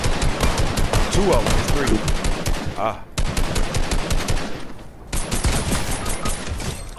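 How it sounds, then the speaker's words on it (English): Rapid gunfire in a battle royale video game, dense continuous bursts of shots with brief gaps, loud and near, while players talk over it. "That was that revolver shooting like that?"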